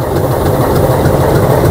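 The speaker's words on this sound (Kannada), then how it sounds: "ಇದು ಟಾಯ್ ಟ್ರೈನು, ಅಲ್ಲಿ ನೋಡಿ ಸ್ಟೀಮ್ ಇಂಜಿನ್ ಮಾಡೆಲ್ ಇಂಜಿನ್ ನೋಡಿ." The Nilgiri toy train, drawn by a steam engine, runs on the line to Ooty with a loud, steady rumble and rapid clicking of wheels on rails close by, continuous throughout without voices.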